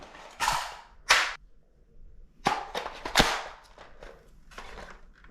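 Magazine released from an X-Shot Longshot Pro toy blaster, giving a few sharp plastic clacks and knocks spread across a few seconds, close and fairly loud with quiet gaps between.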